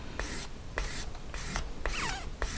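A sand stick rubs over a freshly soldered handmade jewelry ring in repeated short strokes, a close, soft rasping rhythm with no voices.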